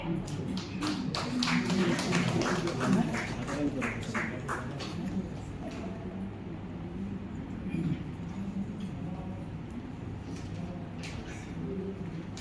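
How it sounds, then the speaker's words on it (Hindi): Scattered clapping from a seated audience at a lecture-hall gathering, with sharp individual claps early on that thin out over time while people talk in the background. "तालियां बजती रहे"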